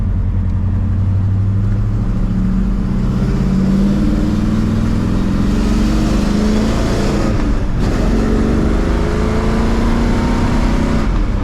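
A 1970 Oldsmobile Cutlass W-31 engine drones steadily as the car drives, its pitch rising and falling through shifts of its M20 or M21 four-speed manual, with one sharp shift-like break midway, in traffic.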